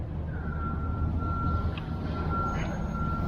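A concrete mixer truck backs up at a residential driveway pour, its steady backup beeper sounding as a continuous tone over loud, rumbling engine and site noise.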